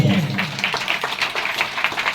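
A church congregation claps for God, quick scattered handclaps ringing out together in a short burst over the room's murmur.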